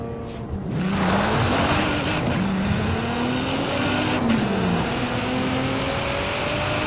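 A Nissan GT-R race car in a video game revs up and holds a loud, steady engine roar, its pitch rising and falling through gear changes, with no talk.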